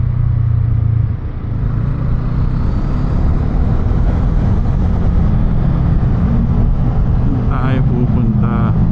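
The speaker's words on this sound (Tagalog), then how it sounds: "Napakaswabe ng motor natin." A Voge motorcycle ridden on rain-wet roads gives a steady, low engine rumble mixed with constant wind rush, with muffled voices over it throughout.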